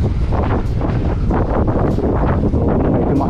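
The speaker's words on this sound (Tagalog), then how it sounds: "So, medyo mahangin." Steady, loud wind buffeting the microphone while riding a Xiaomi M635 electric scooter at around 20 km/h, a continuous low roar with gusty bursts and no speech.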